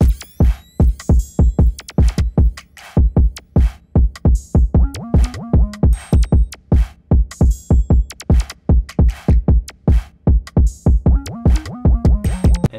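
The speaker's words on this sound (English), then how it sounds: "So all the drums together sound like this." A bouncy drum loop programmed in FL Studio, with punchy kicks and snappy hits in a steady, busy rhythm that repeats throughout, loud and up front, no voices.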